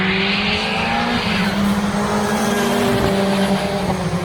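A race car runs on the track at Oulton Park during a warm-up session, its engine a steady loud roar with a rising and falling tone, tire noise mixed in and no talk over it.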